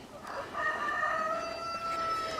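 A single rooster in a mixed flock of meat and egg chickens gives one long, clear crow that rings out over faint background hum.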